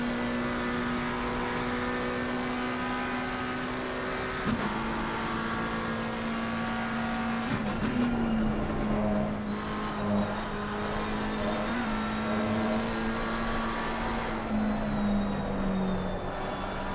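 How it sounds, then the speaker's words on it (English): A McLaren twin-turbo V8 race car in a PC racing game at Watkins Glen roars down the straight. The engine note is a sustained, droning tone that shifts pitch several times, with other cars faintly in the background and no talking. "you can listen to that twin-turbo V8 as it roars down the straight here"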